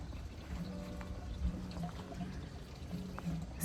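Water pours and trickles steadily into a GreenStalk strawberry planter, a soft, continuous running stream with faint gurgles, heard close and quiet.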